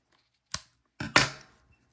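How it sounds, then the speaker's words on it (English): Scissors snip through crochet yarn after finishing a small ruffled fidget ball: one crisp cut, then a pause and a double snip close by, with no talk. "let's get our scissors"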